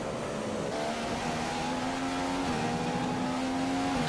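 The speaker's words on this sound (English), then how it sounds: "Accelerate, please. They've recorded. Just accelerate, you stupid car." McLaren Honda race car engine in a racing video game, a loud continuous whine that climbs slowly in pitch, shifts briefly, and keeps accelerating under steady throttle at the Chinese Grand Prix.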